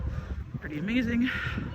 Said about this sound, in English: The loud noises you're hearing, I don't know if it's a seagull or some other, anyways, it's a bird, obviously